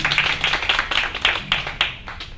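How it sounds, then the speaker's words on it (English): An audience at a university debate competition claps to welcome the judges, a lively burst of many hands with individual claps standing out, fairly close. "please help me to welcome our judges with a big round of applause"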